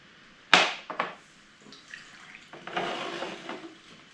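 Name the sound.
beer being poured into a glass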